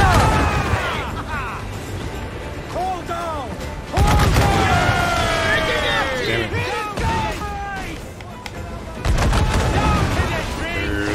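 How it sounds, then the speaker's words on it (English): Heavy ship cannon broadsides boom in bursts during an Assassin's Creed IV Black Flag naval battle, loud crackling volleys separated by brief lulls, with layered game effects and shouted voices mixed in. "Two heavy shots, and then one broadside, two ships taken down."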